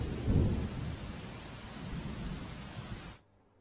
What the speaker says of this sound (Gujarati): ડેમના છ દરવાજા ખોલીને પાણી છોડવામાં આવી રહ્યું છે